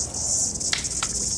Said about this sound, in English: The cicadas are a wee bit of fun.